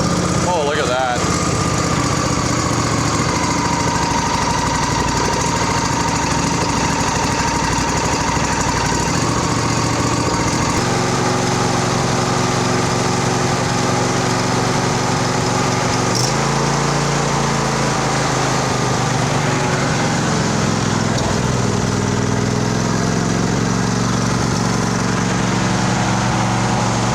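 A 2007 John Deere LA135 riding mower engine, freshly fitted with a new right-side cylinder head, starts on a booster with choke and throttle, then runs loudly and steadily with shifting revs while people talk nearby.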